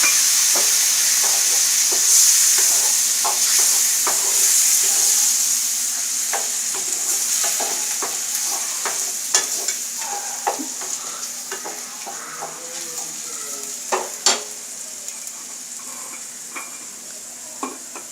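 Water hits a hot cooking pan and keeps up a loud, steady sizzle and hiss while a spoon stirs, with scattered clicks of the utensil against the pan growing more frequent toward the end.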